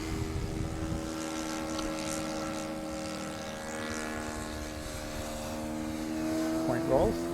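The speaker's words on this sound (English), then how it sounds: "again, the plane rolls like the others, really straight and really true" A propeller-driven sport aerobatic plane flies and rolls overhead, its steady droning engine tone holding throughout and swelling slightly near the end, with someone talking over it.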